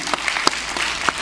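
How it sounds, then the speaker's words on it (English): Audience applause at the B Free Awards 2017 show, a steady wash of many hands with a few sharper claps standing out, loud and alone without talk. "give yourself a round of applause right now"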